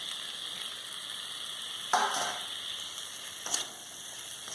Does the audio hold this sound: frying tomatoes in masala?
yes